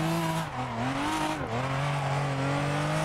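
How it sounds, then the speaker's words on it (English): A drift car in the Assetto Corsa racing game on Xbox One, run with high boost and clutch kicks, drones loudly and steadily with a wavering engine pitch that dips and stutters twice, hinting at breakup, alongside faint tire noise. "Super sounds like it has a little breakup"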